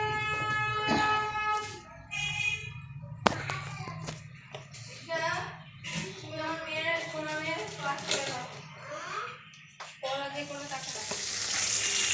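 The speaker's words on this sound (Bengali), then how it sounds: "কড়াইয়ে আমি তেল দেওয়ার পরে রাঁধুনি আর মেথি ফোড়ন দিয়েছি আর তেজপাতা দিয়ে যে করলাগুলো ভালো করে ভেজে নেব" Bitter gourd with radhuni, fenugreek seeds and bay leaves fries in mustard oil in a wok, giving a steady sizzle with stirring and clinking of a utensil as someone talks over it.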